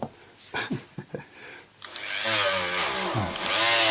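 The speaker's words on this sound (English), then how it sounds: "the Dremel's always going to want to pull and run away" A Dremel rotary tool whines up to a loud, steady high-pitched cut after a few brief handling knocks, the motor pitch dipping and rising as it bites into the work.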